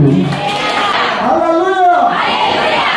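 A church crowd cheers, with voices rising in a sweeping shout over a noisy broadband wash that could include clapping; loud and close.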